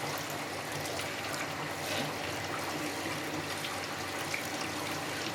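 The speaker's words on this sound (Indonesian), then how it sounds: "Kita nyalakan airnya, kita pindah ke arah tabung spin. Jadi di sini airnya menggerojok di sini." Tap water gushes steadily into the spin tub of a Panasonic twin-tub washing machine, a constant close rushing splash that stays even throughout with no speech over it.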